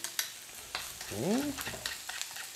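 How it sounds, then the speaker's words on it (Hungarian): Onion frying and being stirred in a pan, with a soft background sizzle, broadband scraping stir strokes, and a brief harmonic squeak from utensil against pan midway. "itt a hagymát nem fogom főzni, csupán megpirítani"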